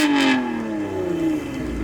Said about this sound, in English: A little exhaust work done on the TRD cam.